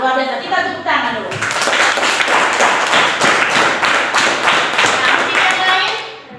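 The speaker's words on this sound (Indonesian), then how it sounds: "Kita tepuk tangan dulu." Classroom students clapping hands together in a loud, rhythmic burst of sharp claps close by, following a brief teacher's voice at the start and tapering off at the end.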